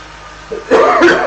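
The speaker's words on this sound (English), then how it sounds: "I can't get rid of this cough" A single harsh cough bursts out close by, preceded by a brief throaty sound, loud against a faint background hum.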